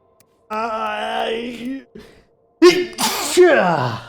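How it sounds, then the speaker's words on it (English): A drawn-out vocal build-up gives way to a sharp, loud sneeze burst up close, followed by a second explosive sneeze. "Uh-oh, I'm gonna sneeze."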